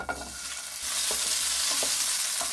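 Finely chopped onion frying in hot oil in a pan, a loud continuous close-up sizzle that swells after the first second, with occasional light stirring taps; no voices.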